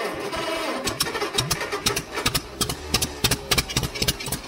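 Old 1953 John Deere tractor engine running close by, a steady mechanical drone with a rapid rattling, ticking beat that grows more pronounced over several seconds; no talking.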